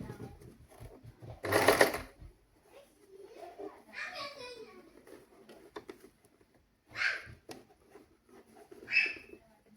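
A sewing machine stitching a frock runs in short, bursty runs with pauses between them, fairly quiet, while someone talks between the stitching.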